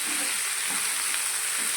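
Eggplant and valor beans being stirred in hot oil with turmeric in a kadai give a steady, close sizzle with soft scraping of the spoon, continuous and alone throughout.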